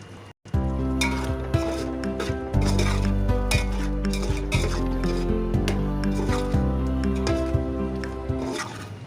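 A spoon scrapes and clanks steadily against a metal pot while spices are stirred into potato rice, rhythmic knocks and scraping close up, with no talking.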